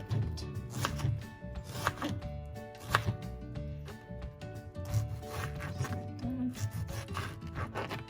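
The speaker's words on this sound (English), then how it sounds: "Now we will chop the tomato" A knife chops a tomato on a wooden cutting board, with steady repeated knocks and rubbing scrapes at close range, amid faint background music.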